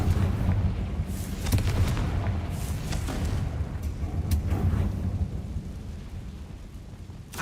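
A Confringo spell blast in a Harry Potter video game, a deep rumbling boom that swells early and fades slowly, with a few sharp cracks scattered through the decay.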